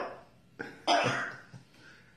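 A pet bird imitates a smoker's cough, giving two or three rasping, cough-like bursts with short pauses between them. The sound is close and moderately loud, and no one speaks over it.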